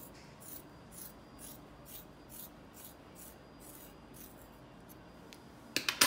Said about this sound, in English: using curved scissors to cut that section